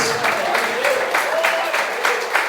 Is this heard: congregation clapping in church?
yes